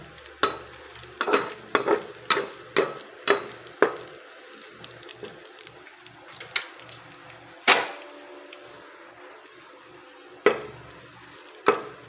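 Chorizo sausage fries in a pan for pancit bihon, with a soft sizzle underneath sharp, irregular clacks of a utensil against the pan, some clustered close together and others spaced apart.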